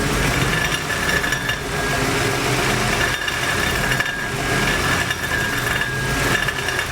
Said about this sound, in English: This old Ford's got a rattle to it.